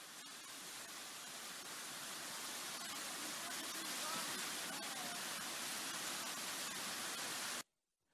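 Steady broadband rush of a small stretch of the Jordan River flowing, continuous and fairly close, with no other sound on top, cutting off abruptly near the end.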